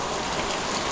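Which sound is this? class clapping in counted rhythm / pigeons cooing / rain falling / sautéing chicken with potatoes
rain falling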